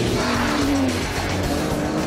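An Aston Martin DBS with a 510-horsepower V12 runs steadily and loudly up close, a deep continuous engine rumble with a rising tonal whine holding for about two seconds, no talk over it.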